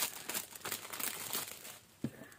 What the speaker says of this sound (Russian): второй я также сейчас упакую. Такой же пакетик.